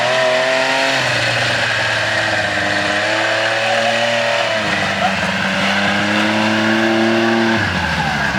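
Mini truck engine revs hard while its tires burn and squeal, a loud sustained whine that shifts pitch in several steps as the revs rise and drop, with no talk.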